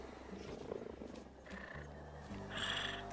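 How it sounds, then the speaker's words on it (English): A cheetah purrs in the Planet Zoo game's desert franchise mode, a low rumbling purr with a few higher animal calls layered over a steady ambient game backdrop, fairly quiet throughout. "The purrs."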